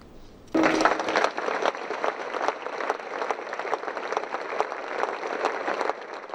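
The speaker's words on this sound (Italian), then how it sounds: "Un lungo applauso ha accompagnato il lancio dei palloncini" Long sustained applause from a crowd gathered in a town square at a commemoration for four young people, dense steady clapping that starts abruptly and continues at an even level, slightly distant.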